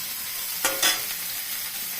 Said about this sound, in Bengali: এই যে ফুলকপির মধ্যে কাঁচা লঙ্কাও দেওয়া আছে, এই যে দিয়ে দিব ফুলকপিটা